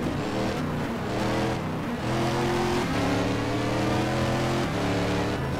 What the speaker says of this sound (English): That is actually one of the GT2 Corvettes. Just gonna blow on by.